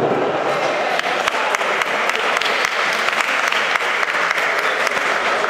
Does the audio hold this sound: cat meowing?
no